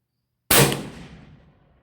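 A .300 RUM rifle firing a 175 grain LRX bullet at a solid steel Masterlock, a single sharp, loud report with a decaying tail of echo and no talking.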